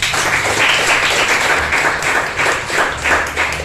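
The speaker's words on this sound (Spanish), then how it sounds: "Den un aplauso al Señor por eso" A church congregation at a Sunday service claps together, a full and even burst of applause from many hands in a large room, steady throughout with slight swells and no voice over it.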